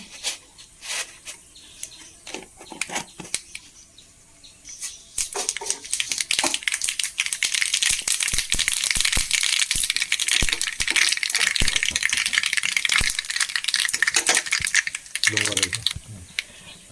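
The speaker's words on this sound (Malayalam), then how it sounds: "നമുക്കിത് കടുക് വറുത്തിടാം" Mustard seeds spluttering in hot oil while tempering a home-cooked Kerala lunch curry. After a few quiet seconds, dense, close crackling pops burst out and keep going steadily.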